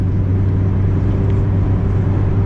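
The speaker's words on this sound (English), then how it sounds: "Now we'll change the lane, accelerate to 120, and then lock the cruise control" A Mazda MX-5 Miata ND speeds up toward 120 km/h, heard from inside as a steady, loud engine and road drone with a low rumble and no clear rise in pitch.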